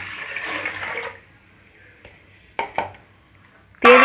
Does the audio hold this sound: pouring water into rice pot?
yes